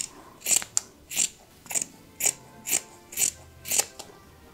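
Fabric scissors snip repeatedly, trimming excess cloth from sewn fabric hearts, eight crisp close-up cuts in a steady rhythm with no talking.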